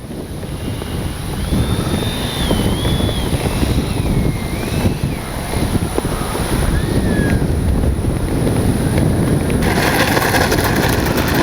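Strong wind roars steadily across the microphone at an RC jet flying field, as a continuous loud rush. A faint whine from a 70mm ducted-fan FMS Avanti S model jet rises and falls above it.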